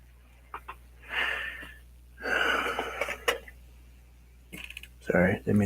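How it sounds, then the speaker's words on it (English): Breathy bursts close to a microphone, a few long, airy inhales and exhales separated by near-silent pauses, with some clicks and a short voiced sound at the end. "Sorry, didn't mean to breathe in your ear."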